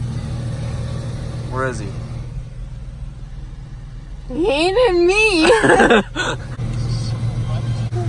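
A truck engine idles with a low steady rumble throughout, briefly rising as it revs, while people talk over it nearby.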